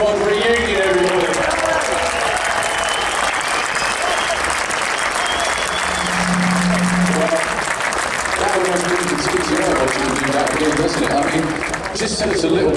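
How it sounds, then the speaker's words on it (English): Audience at a drag racing event giving a standing round of applause, dense sustained clapping from a large crowd that fills the whole stretch with only slight swells. "I want you to give your biggest standing round of applause"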